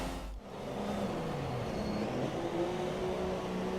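Race car engine in a GP2 racing video game at the China round, pulling out of the pit lane: a steady, loud motor drone with a rising engine tone held throughout.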